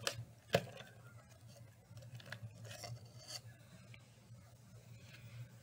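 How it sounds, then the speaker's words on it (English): A black crayon rubs across paper while coloring a worksheet, making soft, faint, intermittent scratchy strokes close by in a quiet room, with a couple of brief louder taps and no talking. "Color the lady's pants black. All right, let's pull out our black crayon."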